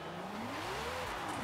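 Ferrari F40 engine in Forza Horizon 5, a steady, moderately loud drone that rises in pitch and then falls back as the car drives, with no voices.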